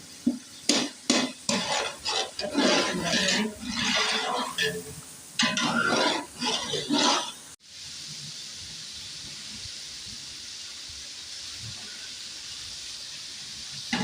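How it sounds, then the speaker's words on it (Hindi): Spices frying in a pan with salt for Punjabi chicken pulao, with stirring scrapes and clatter during the first half, then a steady sizzle and hiss alone. "मसाले की अच्छी तरह भुनाई होनी चाहिए।"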